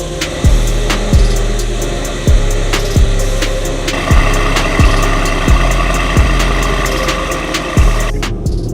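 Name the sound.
AMG E63s with PTG carbon fiber intakes driving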